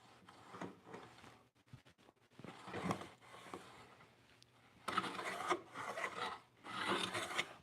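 A freshly sharpened hand plane takes wood shavings, giving a series of close, raspy scraping strokes separated by brief pauses, with longer, louder passes toward the end.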